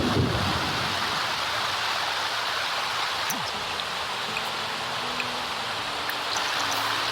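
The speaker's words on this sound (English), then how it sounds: "thunderstorms literally making Dingus want to run away" Steady rain hiss from a thunderstorm in The Sims 4 fills the scene, with a faint low rumble of thunder partway through and a few soft game tones over the constant downpour.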